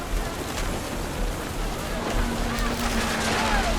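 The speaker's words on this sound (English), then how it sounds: "The rain came down in buckets then" Heavy rain pours in the video game What Remains of Edith Finch, a constant dense hiss of downpour that holds steady throughout with no break.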